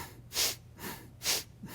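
Rapid, forceful bellows breathing, two sharp breath bursts with softer breaths between, close and alone.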